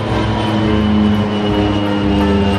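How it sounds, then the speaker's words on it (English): A Navy airplane passes overhead with a loud, steady engine drone that holds for the whole stretch, heard outdoors with no talk over it. "Oh, got a plane coming over."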